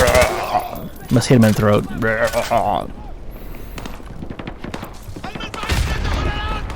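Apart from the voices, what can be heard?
gunfire in Call of Duty: MW2 video game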